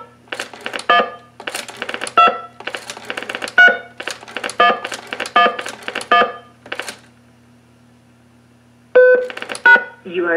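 Bursts of DTMF tones produced by a rotary dial telephone through a pulse-to-DTMF converter, arriving in rapid clustered groups with short pauses, over a steady low hum, ending with a couple of isolated beeps after a quiet gap.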